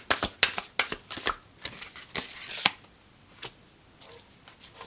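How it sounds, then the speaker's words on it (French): A deck of tarot cards is shuffled close up in a rapid series of crisp riffling flicks, followed by softer slides and taps as cards are drawn and laid out, with no talking. "Je vais faire un tirage à 4 cartes."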